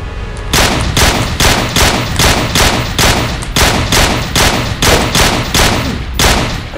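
A sound-effect burst of rapid gunfire, about a dozen loud evenly spaced shots firing in a steady rhythm for several seconds, with no talk.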